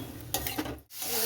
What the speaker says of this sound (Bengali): জল দিয়ে ভালো করে এবার কষিয়ে দিতে হবে।